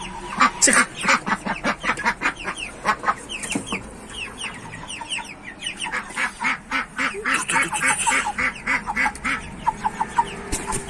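Rapid bursts of quacking and clucking from a duck among broiler chickens, sharp and close, in irregular clusters, with a voice talking now and then.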